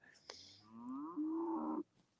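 Well-fed cattle on a farm, being moved onto fresh grass, give one long, close, fairly loud moo that rises slightly in pitch before stopping abruptly, followed by a brief quiet pause.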